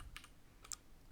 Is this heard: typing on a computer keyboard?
yes